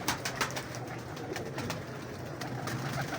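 Pigeons coo softly in a breeder's loft in Lahore, with low repeated calls that overlap under faint background noise.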